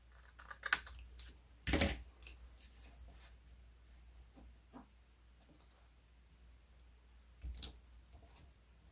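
Small coated micro scissors snip through a sticker during scrapbooking, giving a few sharp, close clicks and cuts with quiet gaps between them.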